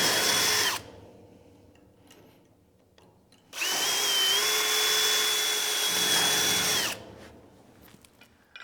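Drill press boring out sliding foot adapters for a welding table, two sustained high whining drilling runs separated by a quiet pause, close and loud.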